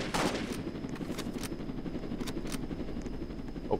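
Gunfire aimed at a helicopter in Roblox Jailbreak, a rapid string of shots over a constant rotor-like drone, close and fairly loud with no talk.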